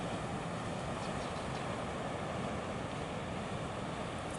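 Ocean surf and wind wash through a wooded coastal area as a constant, broad rushing roar, distant and steady, with no voices.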